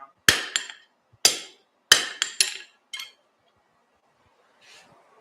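A metal hammer strikes hot steel on an anvil for a forge weld while small dividers are being made: several sharp, ringing blows in quick clusters, close and clear, followed by quiet and a faint later sound.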